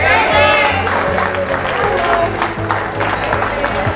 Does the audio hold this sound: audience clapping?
yes